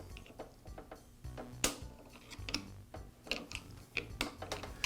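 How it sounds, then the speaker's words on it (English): A screwdriver pries the drive belt of a DeWALT planer onto its pulley, giving faint close clicks, small metallic taps and scraping ticks in an irregular rhythm. "I'm going to carefully pry the belt outward and onto the pulley"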